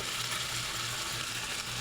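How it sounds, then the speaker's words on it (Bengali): Tomato and green chilli paste with salt, turmeric, chilli powder and cumin powder fries in a pan for a rohu fish curry with pointed gourd, making a brief, even, soft sizzle. "হলুদ, লঙ্কার গুঁড়ো, জিরের গুঁড়ো, সব একসঙ্গে ভালো করে কষিয়ে নেবো।"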